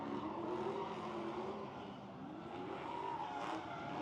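Drift cars lapping Owosso Speedway during a Michigan drifting event, a continuous roar of engines revving and droning at steady middle distance, with tires hissing and squealing in a sustained wash of noise.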